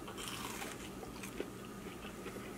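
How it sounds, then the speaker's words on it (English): Bites into crunchy air-fried frozen chicken nuggets, several close crisp crunches and chewing sounds spread over a couple of seconds, with no speech. "Got a solid crunch, and it's still nice and juicy on the inside."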